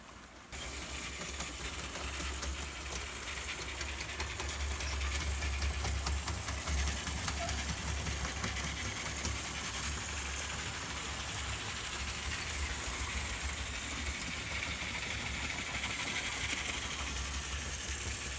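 A model ALCO FA locomotive runs with its shell off, giving a steady mechanical whir and buzz that holds constant throughout the clip.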